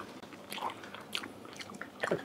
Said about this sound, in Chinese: 咔嚓脆